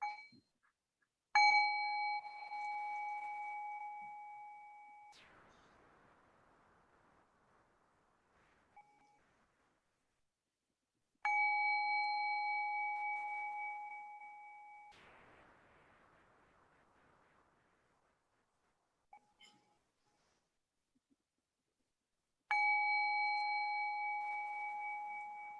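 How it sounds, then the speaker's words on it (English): A meditation bell struck three times at even intervals, each clear, ringing tone decaying slowly into near silence before the next strike. "One of the tools we use in our tradition is a bell. And I'll just invite the bell"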